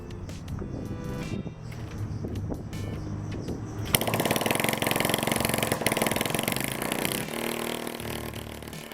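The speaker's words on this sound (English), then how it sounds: "I really did not expect the bike to start on the very first kick" Honda CL90 motorcycle starts on the first kick: a few seconds of mechanical clatter, then the small engine bursts into a loud, steady running note that holds to the end.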